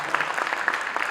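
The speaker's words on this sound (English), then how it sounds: "So they deserve a great round of applause" Applause at a Bharatanatyam dance debut recital, a brief stretch of scattered, moderately loud clapping from the audience.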